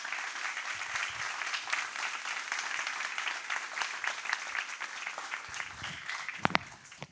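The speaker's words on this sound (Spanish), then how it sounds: "La recibimos con un aplauso." A church congregation applauds a speaker at a Sunday service, with steady, dense clapping that fills the room for several seconds and thins slightly near the end.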